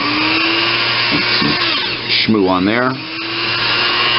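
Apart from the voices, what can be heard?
buffing wheel polishing nickel parts of a Singer 127 sewing machine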